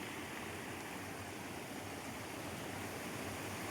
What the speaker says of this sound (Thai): บรรยากาศลำธารนะครับสวยงามครับ